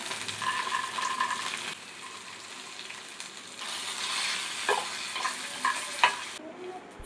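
Green chillies fry in a hot pan for chutney, giving a steady sizzle with bursts of crackle and a few stirring scrapes, fairly close and with no voices over it.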